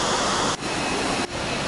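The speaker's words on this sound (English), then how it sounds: "this has got to be one of the most insane waterfalls you'll ever see" Large waterfall in Bali on a wet, rainy day, a loud, continuous broadband roar of falling water close by, with two very brief dips in level.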